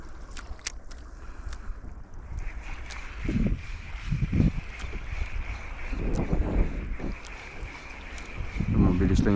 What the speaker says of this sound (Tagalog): mahangin nga. Tsaka yung alon.